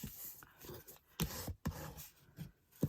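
A bone folder rubs along the score lines of Christmas craft card, creasing the folds in quiet, uneven scraping strokes with short pauses between passes.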